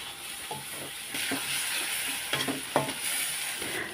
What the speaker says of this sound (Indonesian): Nah ini setelah ditumis-tumis itu lanjut aja aku kasih cabai yang tadi udah aku goreng dan aku ulek juga.